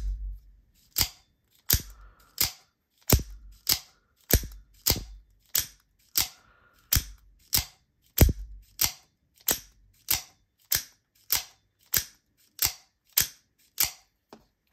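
A Hogue Compound 3.5 out-the-front knife with a black coating is fired repeatedly, producing about two dozen sharp, loud mechanical clicks in a steady rhythm, close up with quiet gaps between.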